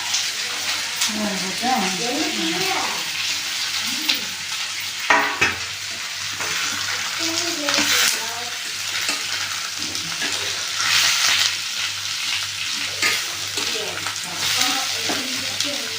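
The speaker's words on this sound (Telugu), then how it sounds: "కొబ్బరి తురం కూడా కొంచెం వేగిపోవాలా" Grated coconut, carrot and tomato fry in a pan with a constant close sizzle and stirring scrapes, while someone talks over the cooking sounds at intervals.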